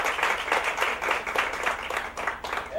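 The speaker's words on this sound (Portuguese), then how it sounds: "Uma salva de palmas, por favor, para Cris." Audience applause at a university employability lecture, a steady patter of hand claps sustained throughout at moderate level, with no speech over it.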